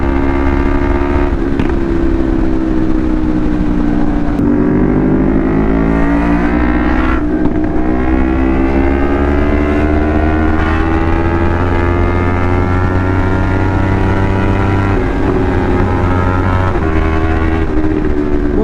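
A CFMOTO 450SR motorcycle engine runs hard at speed in fourth gear on a night ride, a loud, sustained buzzing whine whose pitch rises and dips slightly, mixed with wind rush, with no talking.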